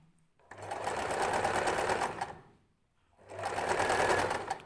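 Sewing machine stitching the seam of a long dress, running in two sustained bursts with a brief pause between them, close and steady, with no talking.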